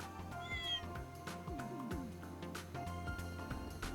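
A character in Trails in the Sky gives a string of short, clear cat-like meows over game music. The voice imitates a cat.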